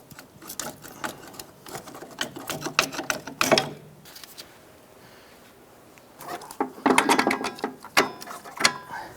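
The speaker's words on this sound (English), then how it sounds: "let's go ahead and remove the two bolts holding the strut to the knuckle" Ratcheting and clanking mechanical bursts as two bolts holding the strut to the steering knuckle are removed from a 2001-2007 Ford Escape, working in two spells separated by a quiet pause.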